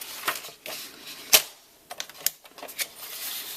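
Crisp, close snips and slicing clicks of paper being cut down to size for a white scrapbook mat, a few sharp separate cuts spaced across a quiet room with no talking.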